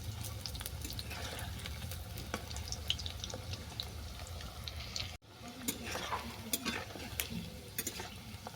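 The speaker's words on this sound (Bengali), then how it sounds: "এরপর কড়াতে তেল দিয়ে বড়াগুলোকে আমি ভেজে নেব" Bread bora fry in oil in a kadai, giving a continuous sizzle with scattered sharp crackles and pops throughout, plus a brief dip midway, close and fairly quiet.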